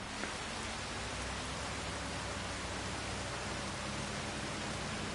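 Rain falling in Farming Simulator 25 on a PS5 farm map, a steady, even hiss of rainfall with no breaks or voices, low in level and unchanging throughout.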